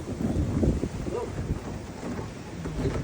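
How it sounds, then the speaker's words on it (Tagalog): Strong gusty wind during a below-zero snowstorm, roaring and buffeting the microphone in a continuous low rumble, loud and close throughout. "It's very windy."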